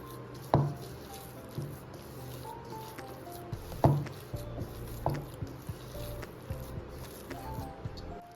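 Chocolate chip cookie dough being stirred and worked by hand in a bowl makes soft, quiet squelches and dull thuds, in irregular bursts with short pauses.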